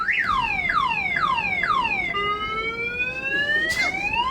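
A car alarm blares after a break-in, its loud, close siren sweeping through repeated rising-and-falling wails before switching to a steadier tone.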